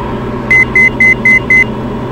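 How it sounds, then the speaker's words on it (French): An aircraft altitude alarm in a light plane cockpit during IFR flight training sounds five evenly spaced electronic beeps, each short and clear, over a constant engine and cabin drone. "Là, ça c'est l'alarme d'altitude"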